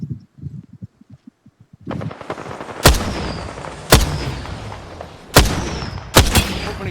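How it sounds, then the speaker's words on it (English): Gunfire in the shooter game Apex Legends: four loud, punchy shots spaced about a second apart over a dense bed of battle noise, after a low rumbling lead-in. "Opening fire."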